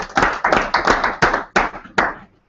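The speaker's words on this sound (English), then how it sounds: "give a round of applause" A small group claps briefly in several uneven bursts as a speaker is welcomed to a financial talk, close and distinct, fading out quickly.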